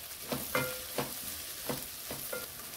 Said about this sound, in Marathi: आलं लसूणची पेस्ट आपण छानपैकी अशी परतून घेऊया।